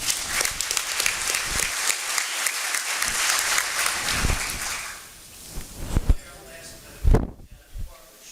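A city address audience applauds loudly for a volunteer organiser, a dense wash of clapping that fades after several seconds into room noise with scattered thumps and a brief voice.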